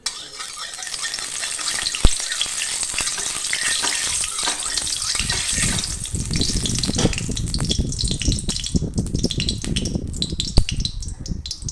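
Boiled potato pieces and whole cumin crackle and sizzle in hot mustard oil in a wok, a steady dense frying hiss with occasional sharp pops and stirring clinks throughout, close and fairly loud, no talking.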